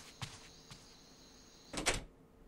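An apartment door opening at night: a couple of soft footfalls, then a short creaking, rattling swing of the door with a latch click, close by in a quiet hallway.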